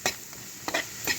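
Thinly sliced carrot pieces fry in a pan for a cabbage carrot curry, with a spoon stirring and scraping at a steady pace over a faint sizzle, three close scrapes with no talking.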